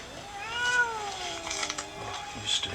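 A cat meows in the 1989 horror film Pet Sematary, giving a long, drawn-out, wavering cry that is clear and fairly close, with faint background sounds.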